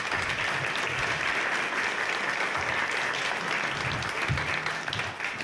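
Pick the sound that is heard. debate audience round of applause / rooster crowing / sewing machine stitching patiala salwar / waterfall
debate audience round of applause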